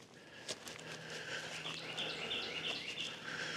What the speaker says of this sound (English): And there's lots of robins here.